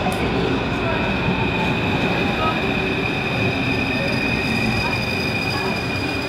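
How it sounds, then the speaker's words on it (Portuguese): A subway train pulls into a metro station, a loud steady rumble of rolling cars with faint high wheel squeal and hiss, continuous and close throughout. "Então o metrô tá chegando."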